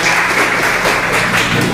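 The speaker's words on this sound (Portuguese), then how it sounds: "Uma salva de palmas, gente!" An audience at a state drug policy and mental health event applauds, with a short burst of dense, loud clapping from many people and no speech.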